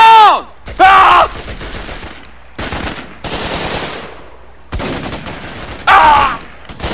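Bursts of automatic gunfire in the Xbox 360 shooter Raven Squad, loud close volleys broken by short gaps, with shouted voices and grunts over the firing.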